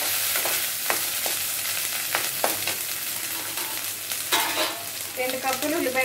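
Prawns fry in a pan with a constant close sizzle, while a utensil stirs and scrapes against the pan in scattered knocks and clatters.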